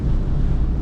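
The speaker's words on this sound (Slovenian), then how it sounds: "Res je danes vetrovno." A strong wind on a windy island bay buffets the microphone, making a close, continuous low rumble that stays loud for the whole brief moment.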